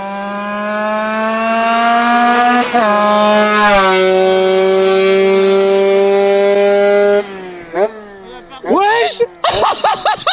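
A 50cc moped engine revs hard through its exhaust, a loud sustained high-pitched drone that holds steady for about seven seconds before cutting back, followed by short blips and voices talking over it.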